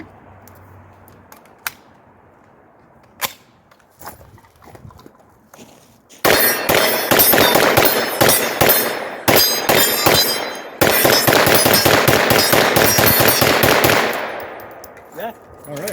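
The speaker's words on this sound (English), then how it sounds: "So let's see if it'll eat the Tula." AP5 MP5 clone submachine gun firing Tula steel-cased ammunition outdoors: a few isolated clanks, then two loud sustained bursts of rapid automatic fire, each several seconds long, close and harsh.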